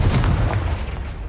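A Confringo spell blast in Hogwarts Legacy, aimed at a pile blocking a stairwell: a single loud, close explosive boom with quick crackling bursts that fade out over about a second, no voices.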